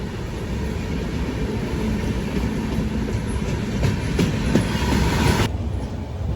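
A passenger express train on the Visakhapatnam to Kadapa line runs on its rails, heard as a loud continuous rumble with rhythmic wheel clatter and brief squeals, then a sudden drop in the high hiss near the end.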